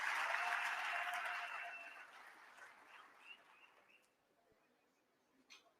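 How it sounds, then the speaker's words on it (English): Applause from the audience at the G20 Social Summit on African soil, loud at first, then thinning and fading away within about two seconds, leaving a quiet hall with a few faint chirps. "you can applaud yourself."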